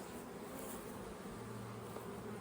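Honey bees in a hive during a brood nest inspection hum in a dense, continuous buzz, steady and fairly faint, with no voices.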